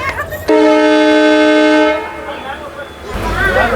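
A passenger train pulling out of Ginigera junction sounds a long, loud horn blast lasting over a second, followed by rumbling carriage noise, with a voice speaking near the end.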